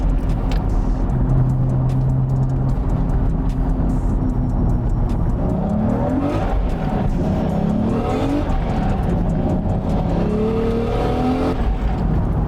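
A Nissan Skyline GT-R engine drones steadily at close range on a street, with rising and falling pitch as the driver shifts through gears, the exhaust note swelling under acceleration.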